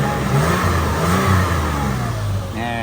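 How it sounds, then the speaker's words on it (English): Toyota FJ Cruiser engine on a 2010+ truck revving up strongly and close, swelling in a single rise before falling back toward idle. "Let me give it some gas."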